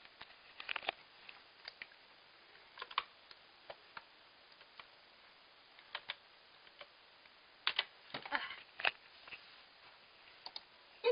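Typing on a computer keyboard, scattered bursts of light key clicks with gaps between them, a quick cluster near the end, close and fairly quiet against near silence.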